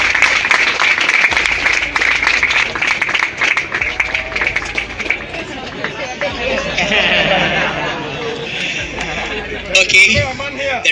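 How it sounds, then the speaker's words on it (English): Applause from a school audience at a fraud awareness outreach event, loud and sustained clapping mixed with crowd chatter and babble, tapering partway through and then swelling again near the end. "Round of applause"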